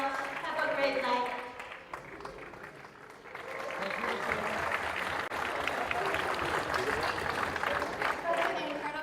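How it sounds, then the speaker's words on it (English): An audience at a regional symposium applauds steadily after a musical performance, a dense wash of clapping that swells midway, with a voice speaking over it. "Let's give them another big round of applause."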